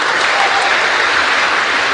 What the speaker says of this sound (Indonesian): Tepuk tangan untuk anak-anak muda yang luar biasa.